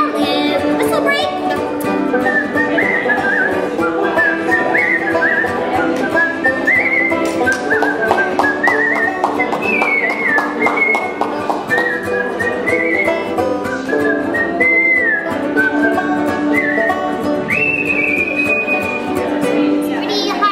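A person whistles a wandering melodic tune, bright and prominent, over a dense background of music or crowd murmur at an informal salon gathering.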